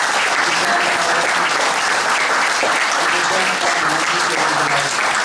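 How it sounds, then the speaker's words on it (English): Dense, sustained applause from a large crowd at a campaign fundraiser dinner, loud and even throughout with no pause. "give me a round of applause for the speakers, for Ryan, for Greg, for"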